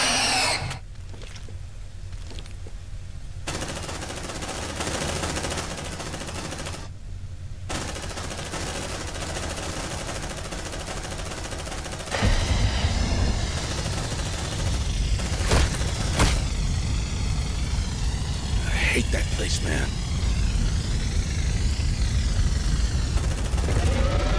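Suppressive gunfire in the video game Aliens: Dark Descent, steady rapid automatic fire running throughout with dense rattling bursts that grow heavier midway, loud against the game's ambient hum.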